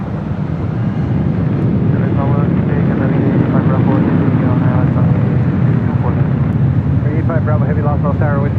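An airliner takes off from runway 24 left at LAX, a loud, steady broadband jet roar that holds through the whole stretch, with radio voices talking over it.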